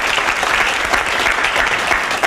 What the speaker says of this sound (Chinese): 我们再热切的鼓掌一下